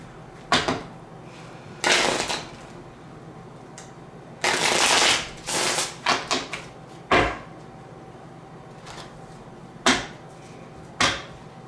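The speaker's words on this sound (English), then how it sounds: "let's pull out some tarot cards" Tarot cards shuffled by hand in a quiet room, coming as several separate bursts of riffling and slapping with short pauses between, close and fairly loud, with no talking.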